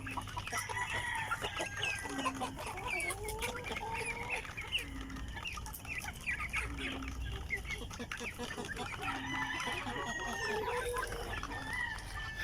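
Free-range chickens cluck steadily at close range, with overlapping calls from several birds and an occasional rooster-like crow, all over a constant outdoor background without talk.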